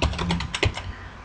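Commands are typed on a computer keyboard in a quick run of close, clicky keystrokes, about ten taps at an even pace, with no voices.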